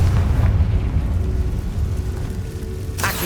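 Confringo blasting spell explosion in Hogwarts Legacy, a loud rumbling boom with a crackling burst tail, followed near the end by a second sharp blast, heard without talk.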